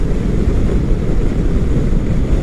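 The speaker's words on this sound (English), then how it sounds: "catching some good old wind too" Strong wind roars and buffets loudly and steadily against the microphone while riding a 2005 Yamaha Star motorcycle on the road from Cloudcroft to Alamogordo, New Mexico, a dense low rumble with no speech.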